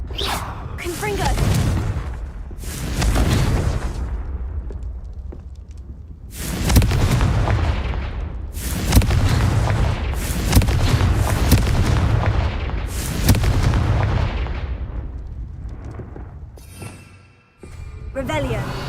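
Repeated Confringo blasting spells in a Harry Potter video game: a loud run of booming explosions with whooshing bursts, several distinct blasts spaced a few seconds apart, with a voice calling out the spell between them.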